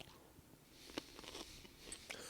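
A single crisp crunching bite into a pickle is heard close up. It stands out briefly over a quiet, hissy room background, and a few faint softer chewing crunches follow.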